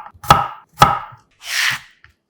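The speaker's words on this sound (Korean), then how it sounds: "통마늘 3개는 도톰하게 편 썰어 향을 더합니다." A kitchen knife slices whole garlic cloves on a cutting board in two sharp, close chops followed by a softer scraping slice, loud and distinct against silence, with no voices.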